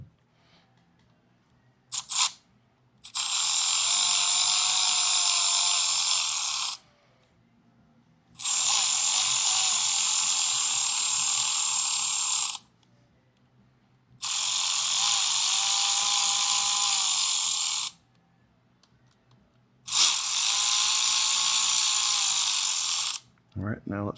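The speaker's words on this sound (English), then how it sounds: "Now let's run the oil pump screws in." Cordless power tool driving in the oil pump screws on a 2024 Harley-Davidson Road Glide during a Stage 2 upgrade. There are four loud, whirring ratcheting bursts of about four seconds each, separated by short pauses.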